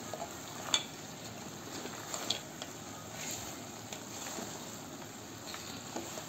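Papdi being stirred into hot chikki syrup in a pan for papdi dry fruit chikki, giving a steady, soft sizzling hiss with faint scraping stir sounds and a couple of small clinks, alone with no talk.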